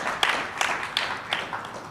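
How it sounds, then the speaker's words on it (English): An audience at an industry conference gives a round of applause, heard as a loose series of evenly spaced clap bursts, fairly close and clear. "Maybe have a round of applause, please."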